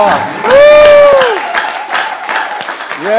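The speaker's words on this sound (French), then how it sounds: "Est-ce qu'on peut encore applaudir les hommes? Applaudissez-les bien." Congregation at a Sunday church service clapping and cheering for the men, a loud crowd burst with a host's sustained exclamations over it, applause continuing and tapering.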